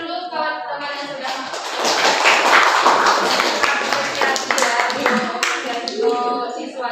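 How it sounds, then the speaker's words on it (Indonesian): Students in a classroom clap their hands for classmates, a busy, moderately loud round of clapping that swells and then tapers, with children's voices audible through it. "Coba tepuk tangan dulu kawan-kawan yang sudah"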